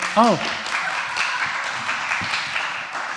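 A church congregation claps and cheers during a service. The applause is moderate and steady, with a brief vocal whoop near the start, and it carries on without a break.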